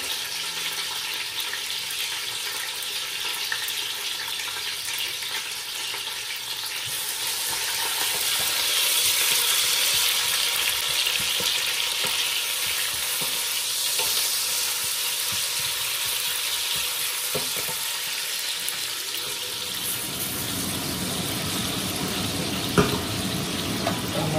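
Curry ingredients frying in hot oil in a home kitchen, a continuous dense hiss and crackle that swells slightly midway and holds steady throughout, close and fairly loud, with no voices.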